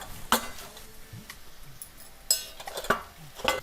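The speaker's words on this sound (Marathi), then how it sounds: "बेसन पीठ थोडंसं टाकून घेऊन भाजून घेऊ तेलामध्ये म्हणजे भाजी आपली छान खरपूस लागेल थोडी हळद पण टाकायची आपल्याला" Gram flour and turmeric roasting in oil for a radish bhaji, stirred with a utensil: scraping strokes and sharp clinks against the pan recur over a soft, faint sizzle.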